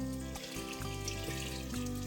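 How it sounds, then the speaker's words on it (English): Water, eight cups of it, is poured into an Instant Pot over toasted whole allspice for a Mexican beef soup, a steady close splashing stream running continuously with no talk. "Now add 8 cups of water."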